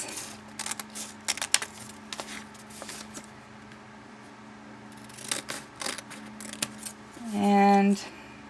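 Scissors cut paper to make an envelope, giving a series of close, crisp snips and crunches in irregular bursts, with a short hum near the end.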